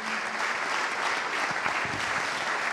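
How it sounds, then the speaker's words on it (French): Steady, dense applause from an audience at an evening event honouring well-known local athletes, sustained at an even level throughout with a faint voice briefly present. "On va vous applaudir très fort"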